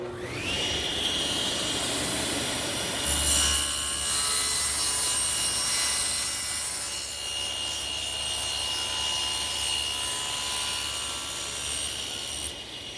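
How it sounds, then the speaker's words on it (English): A table saw with its blade tilted to 45 degrees makes a miter cut through wood, a steady high whine that deepens and roughens as the blade bites partway through, then runs on evenly until the cut ends near the close. "So I'll come back to my saw, adjust the blade to 45 degrees for the miter cuts, and then we're ready to make the pass."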